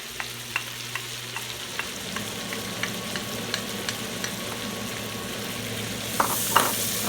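Minced onion and bacon sizzle and crackle steadily in a pot, with a continuous frying hiss punctuated by regular small pops and a couple of louder clatters near the end, close and with no talking.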